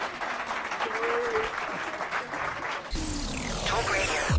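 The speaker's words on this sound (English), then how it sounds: "Give a round of applause" Steady applause from a studio audience on a talk radio science show, a dense, even wash of clapping that carries on for several seconds without a break.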